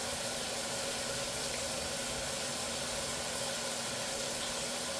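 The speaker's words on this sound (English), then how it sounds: "Shut that water off in the background" A kitchen tap runs steadily in the background, a constant broadband hiss of flowing water with no pauses and no voices.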